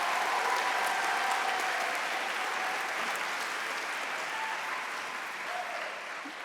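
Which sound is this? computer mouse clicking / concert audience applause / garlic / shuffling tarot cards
concert audience applause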